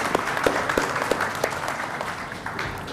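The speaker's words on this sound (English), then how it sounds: "so a round of applause" Audience applause at an Indian textile-sector industry event, a looser patter of claps with a few sharper individual hits standing out, moderately loud and fairly even throughout.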